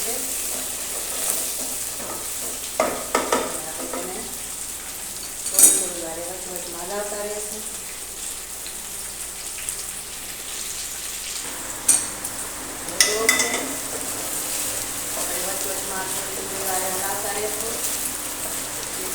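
Okra stirred in a hot cooking pan for a dry bhaji, with sizzling oil and scraping spatula strokes against the pan; a voice talks intermittently over the cooking noise.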